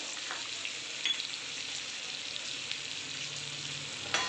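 Curry leaves and red and dried chillies sizzle in hot tadka oil with urad dal. The hiss is steady and bright, with a few faint pops and stirs.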